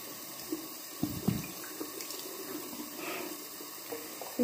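Water draining out of a bathtub full of bubbles in a home bathroom, a faint, steady gurgling trickle with a few soft splashes and knocks, with no one talking.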